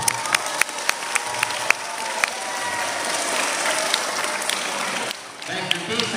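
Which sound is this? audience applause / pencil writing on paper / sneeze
audience applause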